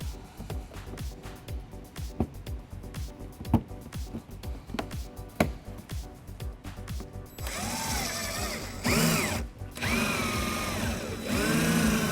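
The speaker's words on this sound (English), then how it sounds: "we're going to drill out the center of it using a small drill bit" Rapid bursts of a small power drill whirring against plastic rivets on a 2012 BMW X5, with short ratcheting clicks, followed by a steadier, higher-pitched drilling whine near the end.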